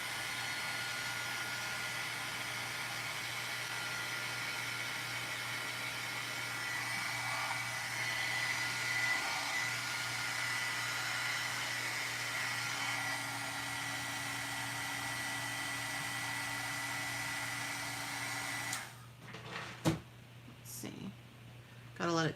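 Steady, moderately loud whoosh of a heat embossing tool blowing hot air, running continuously before cutting off near the end, with someone talking over it.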